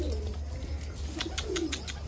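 Pigeons coo softly and repeatedly nearby, each call a short throaty pulse, over a steady hum of background noise.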